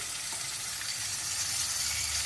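Butter melting and sizzling in a pan with finely chopped ginger and tomato frying, a steady close hiss with faint stirring clatter, no voices.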